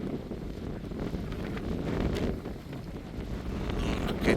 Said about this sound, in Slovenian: Škoda, ker tukaj piha.